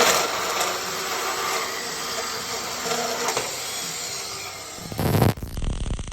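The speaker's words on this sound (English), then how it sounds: "Here we're cutting the 2 feet for the rocket stove." Metal feet being cut for a small DIY rocket stove with a power tool, a steady loud grinding whine running continuously for several seconds before a brief shift and harsher burst near the end, with no talking.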